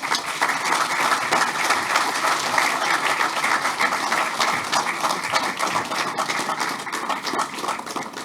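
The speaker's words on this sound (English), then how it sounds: "Let's give him another round of applause." Audience applause following a speech by a prime minister at the launch of a youth economy agency, steady and dense throughout, close and loud with a bright rattle of many hands.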